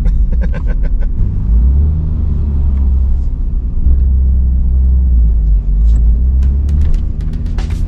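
A Nissan Skyline R34 GT-R on JRZ RS Pro 3 active coilovers drives over a bumpy street, its engine rumbling low and steady from inside the cabin, with scattered knocks and rattles from the rough surface.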